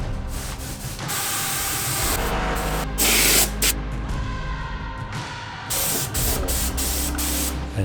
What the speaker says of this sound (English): Time for clear coat.